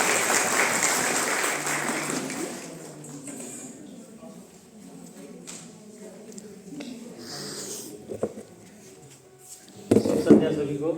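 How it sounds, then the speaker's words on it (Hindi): Audience applause at the closing of a five-day induction training batch, a burst of loud clapping for the first two seconds that fades into quieter room sounds and scattered claps. "एक जोरदार ताली के साथ"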